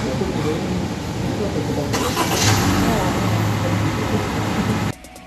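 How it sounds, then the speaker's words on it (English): A 2021 Honda City RS is started by remote start. After about two seconds of quiet cabin hum the engine catches and settles into a steady idle, which cuts off shortly before the end. "let's start with the coolest feature of the Honda City RS, the remote engine start."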